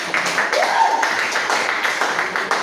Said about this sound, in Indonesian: tepuk tangan dulu dong untuk David